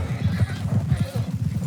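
A horse in the video game Red Dead Redemption 2 gives a low, rumbling snort or whinny over clopping hooves, close and fairly loud, with no talk over it.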